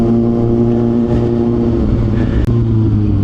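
Loud, close engine drone with steady low harmonics and slight pitch shifts as the throttle is worked, a motorcycle engine running and revving with no talk over it.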